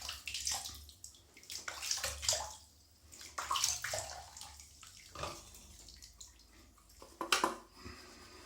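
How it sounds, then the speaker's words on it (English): Water poured from a tap into a shaving soap bowl, making a soft, close trickling and splashing in uneven bursts with brief gurgles, fairly quiet and without talk. "I'll put more water in it."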